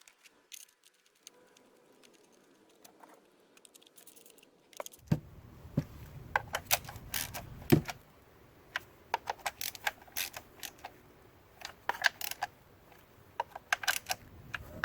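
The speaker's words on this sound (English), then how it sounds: "we can now go ahead and reinstall the 4 bolts" Four bolts go back into the ignition control module assembly on a 2005 Chevy Cobalt 2.2L, producing close clicking ratchet strokes and metallic taps in quick irregular bursts after a quiet start.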